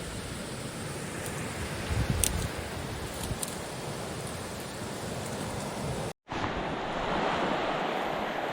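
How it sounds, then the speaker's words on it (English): A waterfall in a gorge along a trout stream produces a constant broadband roar of rushing water, loud and unbroken apart from a momentary cut, with occasional faint knocks over it. "Got that nice beautiful waterfall right there."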